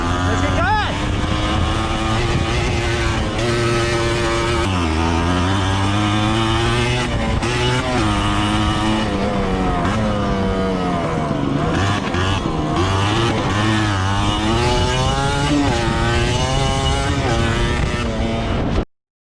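A 2004 Yamaha DT125 R two-stroke motorcycle being ridden, its engine droning and rising and falling through revs close to the microphone, with heavy wind rush and a voice talking over it throughout.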